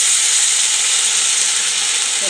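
Semolina chilla batter sizzles steadily in a hot pan, a loud, even, close frying hiss with no pauses throughout.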